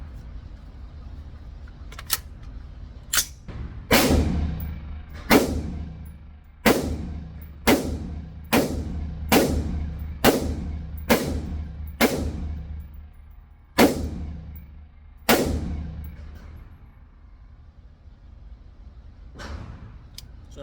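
Rifle shots from an AR fitted with a new Omni Hybrid upper at an outdoor gun range, about ten loud, sharp reports fired in a steady series with brief pauses, ringing out clearly with no talk.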